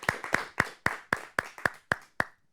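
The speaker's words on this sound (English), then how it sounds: "Let's have a big round of applause for all of our speakers today." Nine sharp, evenly spaced handclaps of applause for speakers at a Toastmasters meeting ring out in a steady rhythm, close and moderately loud, with no voices.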